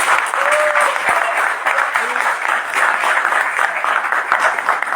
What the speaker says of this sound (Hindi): एक जोरदार तालियां एडवोकेट दिलेश ओझा जी के लिए।